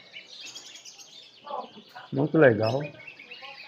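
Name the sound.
canaries singing at a bird market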